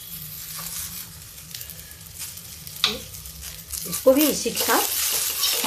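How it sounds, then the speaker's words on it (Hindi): Sliced potatoes and onion frying in oil in a pan over a high gas flame, a steady sizzle with stirring scrapes growing louder near the end, a voice speaking briefly over it. "देखिए गैस तेज हो गई है और ये आलू थोड़ा फ्राई कर लेते हैं, थोड़ा प्याज भी डाल दिया है"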